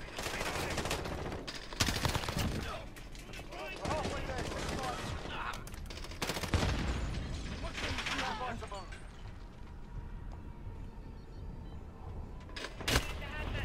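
Bursts of gunfire in a Call of Duty multiplayer match, sharp volleys that come and go over about fourteen seconds, with a player talking at times between and over the shots.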